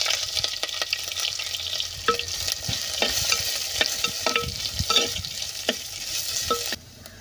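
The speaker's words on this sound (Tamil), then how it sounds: "இப்போது நம்ம வெங்காயம், பச்சை மிளகா ரெண்டையும் நம்ம இதில் சேர்த்துக்கலாம்." Onion and green chilli fry with curry leaves in hot oil, a steady close sizzle broken by repeated scraping stirs of the spoon, then the frying dies down toward the end.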